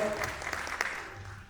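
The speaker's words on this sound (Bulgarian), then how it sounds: "Аплодисменти за класирането си на трето място, четвърта възрастова група." Brief applause from an audience honoring a third-place finish in the fourth age group at a Bulgarian school competition, a steady wash of clapping heard at moderate distance.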